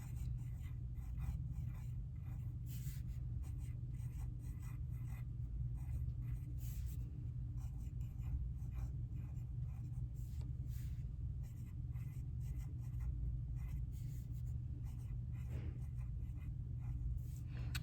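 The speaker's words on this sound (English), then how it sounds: "Now you're going to want to decorate all over this paper with your pencil first." Pencil drawing decorations on paper, a close, steady scratchy graphite scribble of short rubbing strokes that continues unbroken for a long stretch, with no voice over it.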